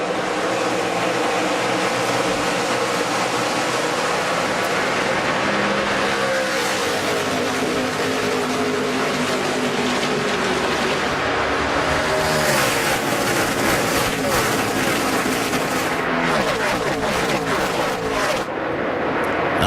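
NASCAR Nationwide Series stock cars roaring past at the 2011 STP 300 green flag start, a dense, loud continuous wall of engine noise with rising and falling revs as the field passes.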